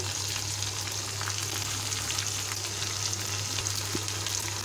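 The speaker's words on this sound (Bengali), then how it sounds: "এখন আমি বেটে রাখা আদা রসুন এবং জিরা মশলা বাটা দিয়ে দিব।" Ginger, garlic and cumin paste frying with onions in hot oil in a pan, a steady dense sizzle with a constant low hum beneath, close and even, no voices.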